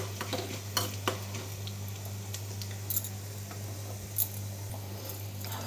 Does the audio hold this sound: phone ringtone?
no